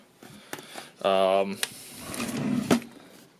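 A storage drawer in a hobby workshop slides open and shut with short wooden scrapes and a brief squeaky rumble, while a person talks nearby.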